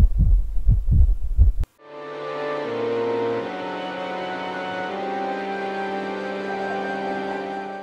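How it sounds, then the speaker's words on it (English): Three or four low, dull heartbeat thumps play in a steady rhythm on a ghost tour, then cut off abruptly and give way to a sustained, layered droning hum that holds to the end. "he could hear the heart beat of the woman buried there"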